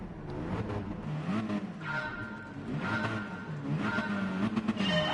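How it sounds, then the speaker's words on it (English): Race car engines rev at the start of a Gran Turismo Sport race, a loud continuous roar that rises and falls in pitch, building toward the end with a hint of tire squeal. "Just screaming the revs."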